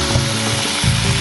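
Food fries in a pan on a kitchen stove with a loud, continuous sizzle and soft stirring, heard close up and without talk.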